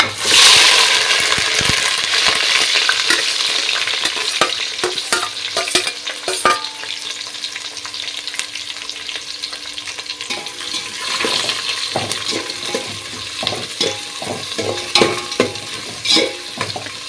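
Onions, with whole spices such as cinnamon, sauté in hot oil for a mushroom biryani, giving a loud close sizzle that is stirred with repeated scraping and clattering of a spoon against the pan.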